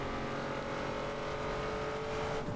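Hummer H2 driving in the racing video game NFS Underground 2, a steady, loud engine drone with a sustained tonal whine, continuous throughout and with no talking.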